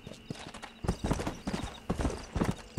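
A horse's hooves clip-clop steadily on the ground in the Red Dead Redemption video game, a close, rhythmic gait of rapid hoofbeats that continues without pause.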